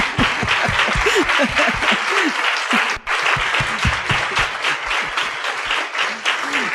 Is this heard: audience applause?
yes